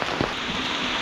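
Monsoon rain pours down in a Konkan village, a steady close hiss of drops hitting surfaces that stays even throughout, with no one speaking.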